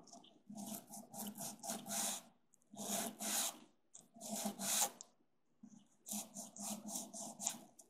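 Residue is scraped out of a guitar nut slot in short, close scratchy rubbing bursts. Four separate strokes are set apart by brief silences.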